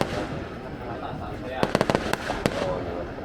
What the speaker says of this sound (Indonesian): Oh, petasan.